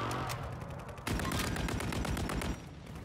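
A burst of rapid automatic gunfire from a weapon in the video game Rebirth erupts and rattles for about a second and a half, sharp and mechanical, after a quieter lead-in.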